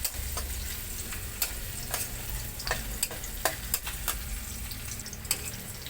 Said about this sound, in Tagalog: pagsabay na natin ang sibuyas at bawang. Sa ating pagisa, haluin lang natin ng bahagya